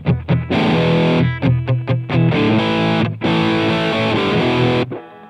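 Electric guitar run through the Amplitube 5 CS amp plugin, a heavily distorted tone with effects, playing chopped stabs, then sustained chords that ring out and decay, loud and alone.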